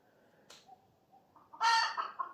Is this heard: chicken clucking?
yes